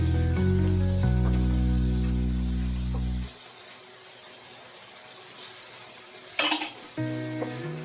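Garlic and onion sizzling as they fry in a pan for chicken menudo, a steady close hiss with a brief scrape and clink of a utensil stirring against the pan, with low background music fading out early.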